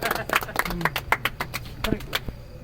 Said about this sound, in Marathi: चला टाळ्या टाळ्या